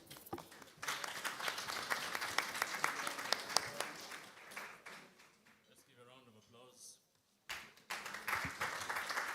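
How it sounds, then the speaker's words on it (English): Audience applause at a workplace nutrition summit, a dense crowd clapping loudly for a panel, thinning briefly near the end before a fresh burst swells back up. "A round of applause to the panel."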